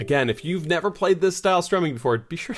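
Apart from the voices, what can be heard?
No distinct noise like a dog, phone or traffic.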